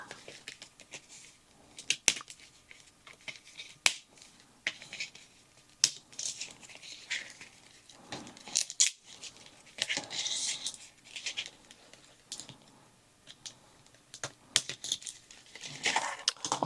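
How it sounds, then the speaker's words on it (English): A Hasbro Studio Series Transformers Hot Rod figure is worked free of its plastic packaging, giving irregular crinkles, snaps and sharp clicks in scattered bursts, fairly close and sparse, with quiet gaps between. "let's get him out of his plastic chains here."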